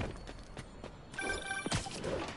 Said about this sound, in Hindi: यूरी का फोन आ गय